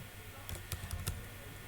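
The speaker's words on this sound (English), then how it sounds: "typing stuff is what we are doing" A handful of quick, soft keystrokes on a computer keyboard while typing into a word processor, clicking in a loose irregular burst over a quiet background.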